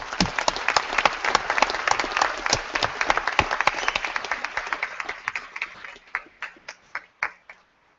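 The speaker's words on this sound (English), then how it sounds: "let's applaud for these last doctoral students" Convocation audience applauding doctoral graduates: dense crowd clapping that holds steady, then thins into scattered individual claps and fades out near the end.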